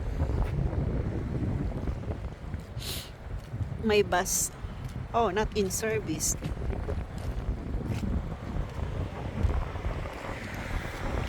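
Strong wind blows along the Wellington waterfront in New Zealand, a steady low roar buffeting the microphone throughout, with people talking over it.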